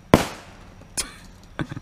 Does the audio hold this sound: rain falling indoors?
no